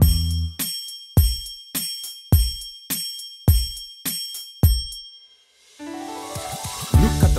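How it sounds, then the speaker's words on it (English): A bright chiming bell strikes nine times in an even rhythm, each ring decaying quickly before the next, followed by a burst of jingly cartoon music. "listen, you can hear the bell chime. Hear it chime up to nine"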